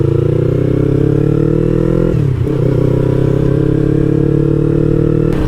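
A modified Yamaha R3 holds a loud, sustained rev. It dips sharply about halfway through, then climbs back to a steady high drone with no voices.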